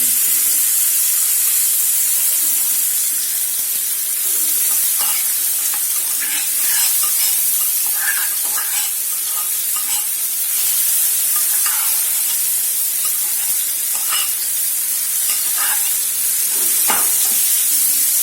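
Cowpea chutney fries in hot oil in a pan with a loud, sustained hissing sizzle. Scattered spoon scrapes and clicks come through as it is stirred over about eighteen seconds, and no voice is heard.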